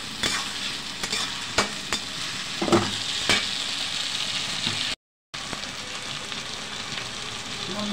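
Chicken frying with ginger-garlic paste in a pan, a steady loud sizzle broken by repeated scraping stirs of a spoon against the pan, with a brief drop to silence midway.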